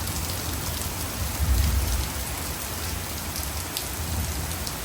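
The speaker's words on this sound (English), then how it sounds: "It's raining." Heavy rain pours down fast in a dense, steady hiss of drops hitting surfaces, with a brief low swell of rumble early on.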